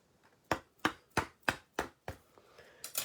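Sharp cutting strokes trimming away excess material while making a tea cup, about seven crisp, evenly spaced knocks at close range with quiet gaps between them.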